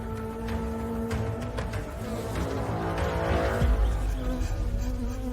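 A hornet flies in close to a beehive, its steady insect buzz droning continuously at moderate loudness, with fluctuating wingbeat tones and no voices.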